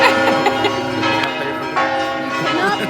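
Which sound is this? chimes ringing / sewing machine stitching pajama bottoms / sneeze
chimes ringing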